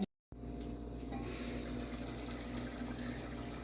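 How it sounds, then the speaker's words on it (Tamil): Water running steadily as it drains off soaked ingredients while cooking a Tamil meat curry, a continuous close splashing and trickling flow with no talk. "ஊற வச்சு சாமியிலிருந்து தண்ணியை வடிச்சிடுறோம்."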